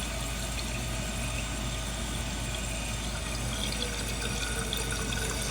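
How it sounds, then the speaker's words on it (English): Water runs continuously inside a toilet tank and overflows into the tube, a steady close hiss and trickle with no other sound. "it's just gonna sit there and overflow"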